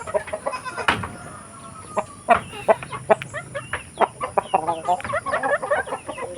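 Hungry chickens being fed cluck and squawk busily in a steady stream of short calls, close by, with a high constant hum in the background.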